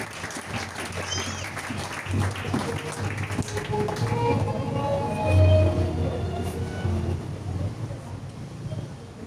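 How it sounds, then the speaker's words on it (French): Church congregation claps and acclaims during a French-language sermon, applause swelling in the middle and fading, with mixed voices and cheers beneath the clapping. "Acclamons alors le Seigneur."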